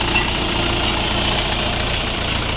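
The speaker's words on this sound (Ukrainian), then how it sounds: "Тракторець 4-циліндровий, повнопривідний, має рівну підлогу, примусову систему опускання" An Orion RF404 four-cylinder all-wheel-drive mini tractor engine idling, a steady, close, even diesel rumble with no voices.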